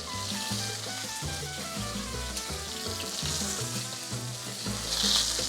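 Onions fry in a pan for Mexican carne en su jugo, giving a dense, continuous sizzle with bubbling crackle that swells slightly toward the end.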